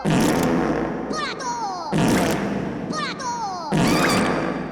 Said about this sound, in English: The 21 fart gun salute!